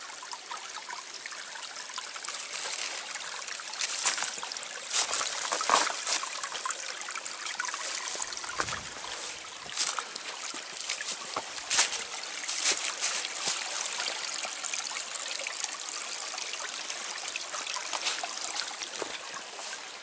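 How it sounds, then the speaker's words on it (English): A creek runs through woods in the Ouachita Mountains, its water trickling and splashing in a steady, close, broadband rush that continues for about twenty seconds with small bursts of spatter and no speech. "I thought I could hear running water"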